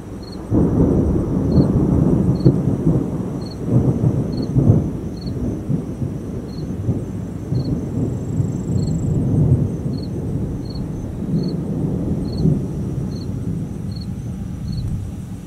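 A thunderstorm rolls over Assateague Island on the Maryland seashore, with heavy rain hissing steadily and deep thunder rumbling on and off, while a faint, regular high chirping repeats in the background.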